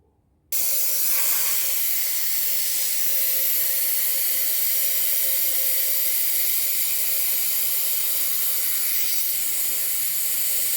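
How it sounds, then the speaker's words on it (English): A steady, loud hiss of escaping air from an air compressor valve running at low pressure, starting abruptly and continuing unbroken, with a faint tonal whine underneath. "my compressor's valve is making all kinds of noises when it's running at low pressure."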